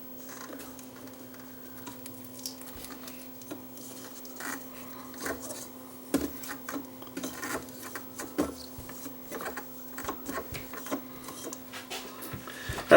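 Magnetic tape is threaded around the tape guides of a Sony TC630 reel-to-reel recorder, giving soft irregular rubbing, ticking and small plastic clicks close by over a low steady hum, with no talking.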